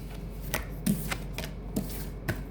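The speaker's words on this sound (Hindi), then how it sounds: "मेरे कार्ड्स गिर गए।" Tarot cards spill and drop, giving a quick run of soft, close papery slaps and flutters spread over a couple of seconds.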